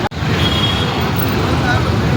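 Steady roadway traffic noise from a jammed street where cables are being cut down, a continuous loud rumble of cars and buses with a brief dropout near the start and faint background voices.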